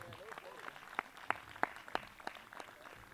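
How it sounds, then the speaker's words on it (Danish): An outdoor audience at a Constitution Day political gathering gives a short round of applause as a man walks up to the stage, with scattered distinct claps standing out over faint background voices. "Daniel, han får også lige en klapsalve på vej op på plads"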